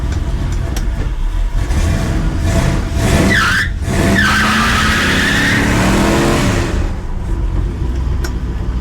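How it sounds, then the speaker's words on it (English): A revving 1956 car engine roars while tires squeal and screech continuously through a long burnout, loud and close. "It does good burnouts."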